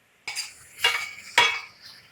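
A metal soup spoon scrapes around a pan in three distinct strokes, each a bright scraping swish, close and fairly loud with no voices.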